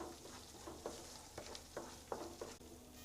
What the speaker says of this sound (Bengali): মশলাটাকে ভালো করে আমরা কষিয়ে নেব।